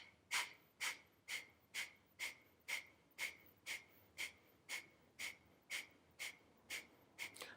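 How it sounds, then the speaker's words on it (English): Rapid rhythmic breath of fire from a Kundalini yoga practice: about fifteen sharp, evenly spaced nasal exhalations in a steady pulse, close and clear with no talk. "Beginning your breath of fire."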